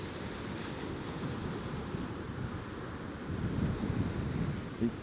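Wind roars and ocean surf rolls continuously at Coney Island beach in New York at sunset, with steady broadband wash swelling slightly toward the end and no voices.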